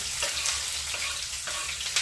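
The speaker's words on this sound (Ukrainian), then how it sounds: "Олія повинна отак аж кипіти." Onions frying in hot oil, sizzling and crackling in a pan, a steady hiss with small pops and faint stirring sounds throughout, close by.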